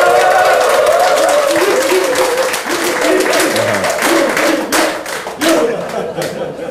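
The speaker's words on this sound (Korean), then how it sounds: "박수 좀 부탁드리겠습니다." Audience applause at a political party members' rally in Daejeon, a dense, steady patter of many hands clapping close by, with scattered voices and brief chatter mixed through it.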